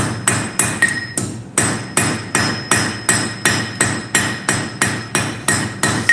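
A blacksmith peens a small forged axe head with a hammer, landing about a dozen sharp, ringing metal blows in a steady, even rhythm, close and loud with no talking.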